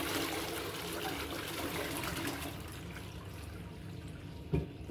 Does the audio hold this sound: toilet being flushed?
yes